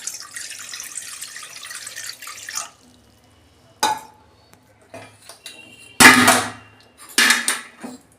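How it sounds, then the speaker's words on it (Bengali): Cut mango pieces washed under a running kitchen tap, with a steady water hiss at first, then a few separate bursts of splashing and clattering against a bowl, moderately close and with no talk. "দেখুন বন্ধুরা, আমগুলো আর একবার ধুয়ে নিয়েছি আমি।"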